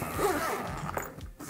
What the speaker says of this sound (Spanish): Simplemente abriendo su cremallera,